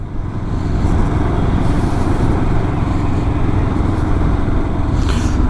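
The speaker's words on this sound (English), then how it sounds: "I'm easily doing only 40 kilometers an hour, and the bike is just riding smoothly." Royal Enfield Himalayan 400 twin-cylinder motorcycle cruising in top gear at low speed, a steady loud engine drone and road rush heard from the saddle, with no voices.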